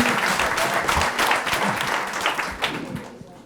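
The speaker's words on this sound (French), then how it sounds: "vous pouvez l'applaudir effectivement lui aussi" An audience at an oyster-shucking competition applauds a contestant, a full round of many hands clapping that starts strong and gradually thins and fades toward the end, with a hint of voices underneath.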